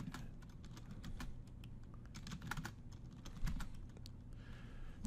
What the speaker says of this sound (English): So I'm going to type in 100.